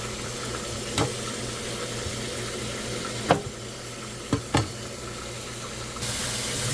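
Chicken pieces browning in oil in a frying pan, a steady soft sizzle with a few sharp clinks and scrapes of utensils against the pan, quiet and close with no talking.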